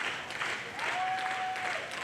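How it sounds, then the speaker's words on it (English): Wrestling crowd at a live show applauding and cheering steadily, a dense, moderately distant wash of clapping and noise that swells as the audience comes alive, with a faint whistle-like tone partway through. "Crowd now starting to come alive, starting to get behind Braxton."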